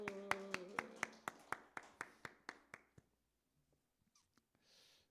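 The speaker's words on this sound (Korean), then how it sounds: "박수." A church congregation at a Wednesday Methodist service claps together in a crisp, evenly spaced rhythm of about a dozen sharp claps. The claps gradually soften and stop after three seconds, leaving near silence with a few faint taps.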